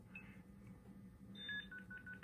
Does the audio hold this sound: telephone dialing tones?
yes